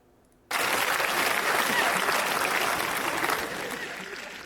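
After a brief quiet moment, an audience at a talk breaks into sudden, loud, sustained clapping that holds evenly and then eases slightly toward the end.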